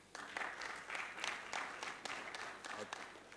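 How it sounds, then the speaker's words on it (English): Audience applause at a live-streamed conference event in Nigeria, a faint, moderately sized round of clapping with uneven bursts of claps carrying on steadily throughout. "A round of applause, please."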